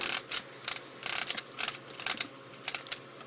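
A DX GoZyuJin toy robot's crank mechanism is turned, producing faint bursts of rapid plastic ratchet clicks in an irregular rhythm.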